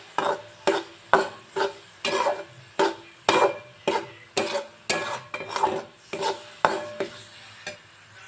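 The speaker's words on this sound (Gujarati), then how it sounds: "હવે આપણે બધા જ મસાલાને મિક્સ કરી લઈશું" Spices being mixed with a spoon in a bowl for cheese pasta, about fourteen sharp scraping strokes in a steady rhythm, close and fairly loud with no talking.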